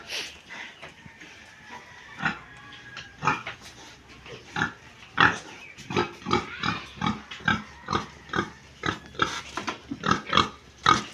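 Sow in a pen grunting repeatedly in short, irregular bursts, close and fairly loud, with quieter rustling between grunts.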